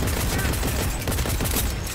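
Loud, dense Cyberpunk 2077 gunfire fills the whole moment, a continuous rattle of rapid shots with no pauses, close and overpowering.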